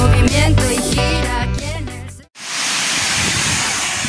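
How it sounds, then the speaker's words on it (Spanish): Waterfall at Cascada del Salto in Guachochi, Chihuahua, heard from its base: after about two seconds of music a steady, loud broadband roar of falling water takes over and runs unbroken to the end. "llegué a la parte de abajo de la cascada para que ustedes se den cuenta de cómo está"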